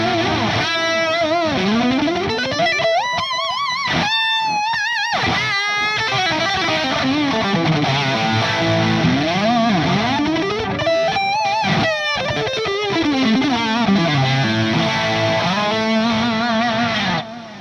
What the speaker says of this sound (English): Here's the Fender Yngwie Malmsteen Overdrive.